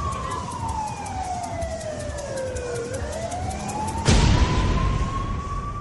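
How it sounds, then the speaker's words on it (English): An ambulance siren wails during a night of partying in tourist Thailand, its tone sweeping and bending as the vehicle draws near, then a sudden loud broadband rush swells in the final seconds. "Within minutes, the ambulance arrives and the girl is taken to the hospital."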